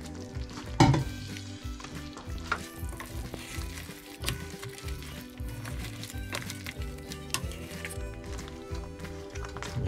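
Garlic frying golden brown in a pan for Filipino-style garlic butter shrimp, a constant close sizzle with stirring scrapes and clatter throughout, no speech.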